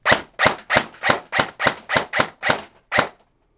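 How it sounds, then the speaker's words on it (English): Ten semi-auto shots from an airsoft gun with a programmable brushless motor, sharp snappy cracks at a steady, slightly uneven pace, close and loud with no talking. "We're gonna do 10 shots in semi, get an idea what the trigger response is like"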